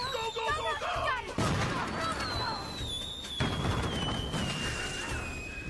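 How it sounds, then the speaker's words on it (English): Rapid cracks and bangs of cartoon fireworks burst over whistling streamers and excited voices, loud and crowded. "That was impressive fireworks."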